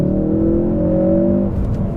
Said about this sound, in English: And man, this car just wants to rev.